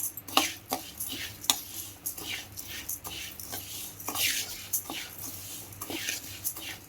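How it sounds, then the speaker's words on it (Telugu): Sambar powder spices dry-roasting in a pan with no oil, stirred in a steady rhythm of scraping strokes and clinks of a spoon against the metal, close and moderately loud. "నూనె అవసరం ఏం లేదు, ఇలా వేయించుకోవాలి"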